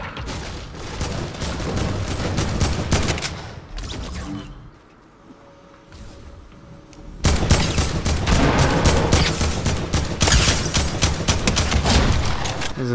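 Assault rifle gunfire in Fortnite: long dense bursts of rapid automatic shots, loud and close, broken by a short quieter gap before the firing resumes even harder.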